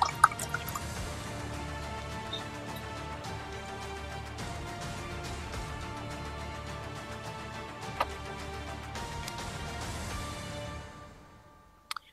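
Drinking water trickles and drips steadily into a glass at close range, ringing faintly as it fills. The pour continues with no talk and fades out at the end.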